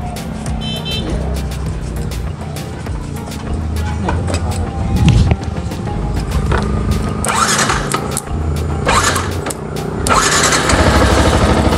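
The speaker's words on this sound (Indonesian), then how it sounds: "Kita tes sekarang apakah motornya bisa hidup atau tidak ya." A Yamaha R15 motorcycle is started after a jumper test for a starter fault. The engine cranks, catches and then idles loudly and close by, with a few revs toward the end.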